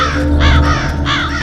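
A crow caws loudly and close by in two harsh, drawn-out calls, with a steady low hum beneath.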